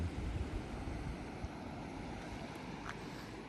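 Ocean waves at Little Hawaii, Siargao, heard as a steady, unbroken wash of surf mixed with wind buffeting the microphone, with no voices.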